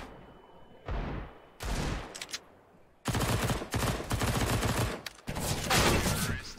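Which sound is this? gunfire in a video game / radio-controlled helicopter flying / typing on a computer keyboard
gunfire in a video game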